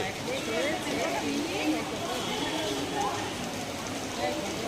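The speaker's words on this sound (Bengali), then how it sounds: "বাইরে মুসলধারে বৃষ্টি পড়ছে" Heavy rain pours steadily outside as a dense, even hiss, with voices talking over it throughout.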